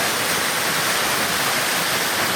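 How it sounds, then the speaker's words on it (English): A waterfall on Dora Creek gives a steady, full rushing roar of falling water that fills the whole stretch without a break and with no other sounds. "wow, there's a waterfall"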